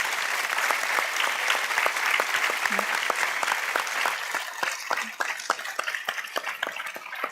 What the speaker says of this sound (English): We'll give you then an applause,